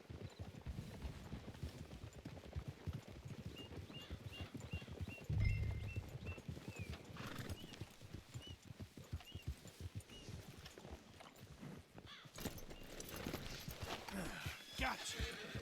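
Horses clip-clop at a steady walking pace throughout, with a whinny rising around the middle, under a noisy outdoor background of a Western-style scene.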